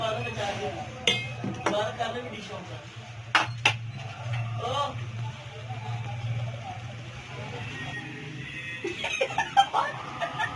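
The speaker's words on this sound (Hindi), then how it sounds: "अब इसको करेंगे डिश आउट करके आपको मैं जरूर दिखाती हूँ" Chickpea pulao being served out of a cooking pot, metal spoon clinks and scraping taps at irregular intervals over a low steady hum, close and moderately loud.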